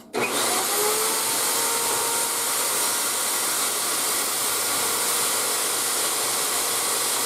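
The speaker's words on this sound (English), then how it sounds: "So when we first moved in, I put this winch in here." An electric winch mounted over a staircase runs at a steady, loud whine as it hoists a load up the stairs. It starts abruptly and holds a constant drone throughout, with no voices.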